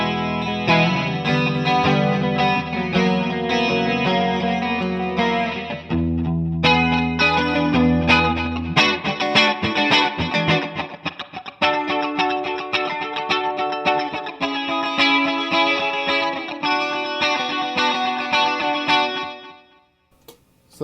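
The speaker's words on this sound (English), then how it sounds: "Now we'll add in some chorus." Guitar played through a chorus effect from a pedal setup, a shimmering wide tone with some grit, strummed chords and ringing notes sustained for about twenty seconds, loud and close, fading at the end.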